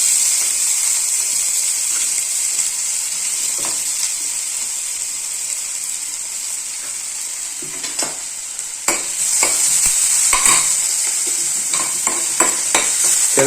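Onions sizzle steadily in hot coconut oil on a tawa, a loud continuous frying hiss close by, with a burst of scraping and clattering stirring strokes toward the end.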